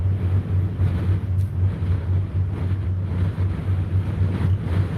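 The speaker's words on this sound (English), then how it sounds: "woohoo, that wind." Strong wind roaring steadily with a deep low rumble, loud and continuous against the microphone, no voices heard.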